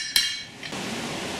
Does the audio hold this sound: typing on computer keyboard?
no